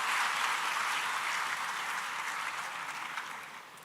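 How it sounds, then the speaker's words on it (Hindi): An audience at a ceremony honoring UPSC-selected candidates welcomes one of them with steady, moderately distant clapping that gradually tapers off toward the end. "तालियों से स्वागत करेंगे कुमारी सोनाली सिंह परमार जी का"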